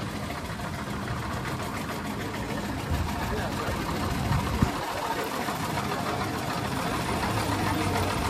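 A beach cleaning robot's engine runs at a steady idle during an outdoor demonstration on a Bali beach, a continuous mid-pitched mechanical drone over a broad noisy background with faint voices nearby.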